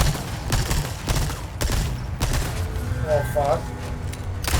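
Bursts of SMG gunfire from Resident Evil 4 crack at close range in separate volleys over a rumbling game backdrop, with a man's brief exclamation among the shots.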